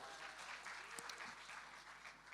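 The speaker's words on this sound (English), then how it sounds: "the beautiful Anushka Sharma, applause." Audience applause at a live on-stage conversation event with actor Ranveer Singh, a steady, dense wash of clapping from a large crowd that holds throughout at moderate level.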